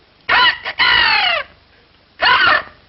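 A human voice imitates a rooster's crow for a hand shadow puppet, one long strained cock-a-doodle-doo followed by a shorter second crow, loud and close.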